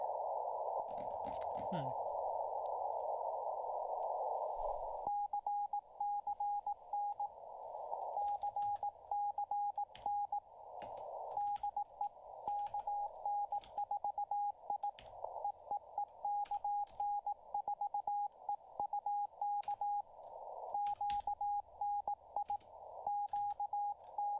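Morse code received over amateur radio: a steady single-pitch tone keys out rapid dits and dahs over faint static, following an opening burst of noisy carrier, with a few faint voices in the background.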